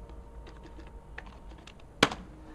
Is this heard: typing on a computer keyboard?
yes